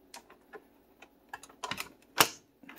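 Top of a Spärkel sparkling water machine snapping shut, heard as a sharp click standing out among softer clicks and handling taps, with no talking.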